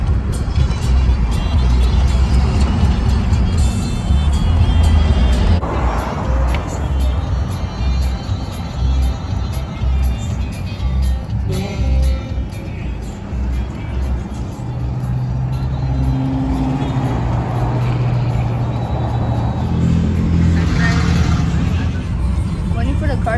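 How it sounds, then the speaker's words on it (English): Cars pass by at a truck meet in Oklahoma City, a loud, steady engine and tire rumble with the odd louder swell, under constant crowd chatter and nearby voices. "Waiting for the cars to pass."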